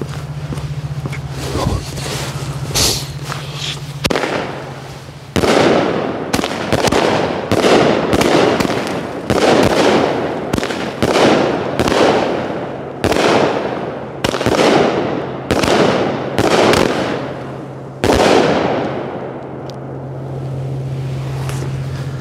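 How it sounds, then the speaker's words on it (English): A 200-gram consumer fireworks cake fires a long series of loud booming shots at a quick, uneven rhythm, each with a crackling tail. A steady low hum runs underneath and briefly takes over during the short gaps. "All right, so we got 3 200 grammers, right?"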